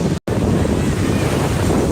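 Surf rolls in on a sea beach in stormy weather, a loud, continuous roar of waves mixed with heavy wind buffeting the microphone, after a brief dropout at the start.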